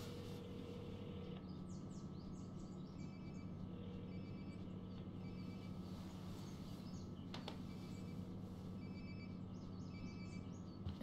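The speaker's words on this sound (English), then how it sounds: "Sounds like my phone is definitely nearby." A phone ringtone in the game Life is Strange: Before the Storm trills in repeated bursts of chirpy electronic tones. It rings at a moderate level for about eleven seconds over a low, steady background hum.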